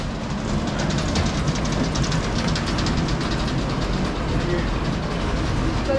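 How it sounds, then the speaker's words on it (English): An old steam-engine-powered sawmill runs continuously with a steady rhythmic mechanical chugging and clatter, loud and close throughout. "Run by steam engine."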